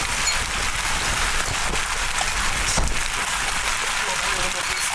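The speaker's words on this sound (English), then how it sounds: "Winds upwards of 80 miles an hour drive the hail into our shelter" Hail driven by storm winds of about 80 miles per hour pelts a shelter during a tornado chase, making a dense, loud, steady hiss and clatter with sharper hits standing out now and then.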